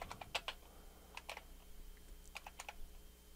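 Typing on a computer keyboard while entering a Linux install command: short clusters of light key clicks with brief pauses between them, close and fairly quiet, no voices.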